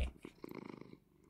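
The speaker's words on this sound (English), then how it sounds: "there's a cat there's a cat come here come here" A Minecraft cat purrs softly in the video game, a quiet, rhythmic rumbling pulse lasting about a second before it fades out.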